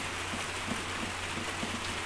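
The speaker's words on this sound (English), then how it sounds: "Sounds like it's raining quite hard now." Heavy rain falling outdoors, a faint, even hiss of steady rainfall with no voices, continuous across the short stretch.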